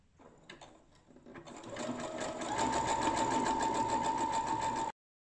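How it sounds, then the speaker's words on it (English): Sewing machine zigzag stitching a stretched elastic strap covered in fabric, starting with a few slow stitches then speeding into a fast even whirring run before stopping abruptly, close and alone. "and start sewing zigzag."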